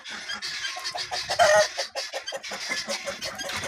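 A rooster and hens clucking close by in a dense, continuous run of calls and squawks, with no talking over them.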